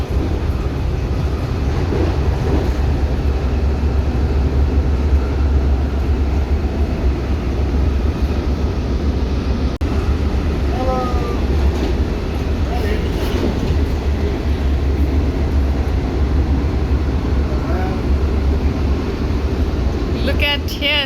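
Continuous low rumble and rattle inside a moving passenger train, loud and unbroken throughout with faint squeaks and clicks. Voices talk quietly over it.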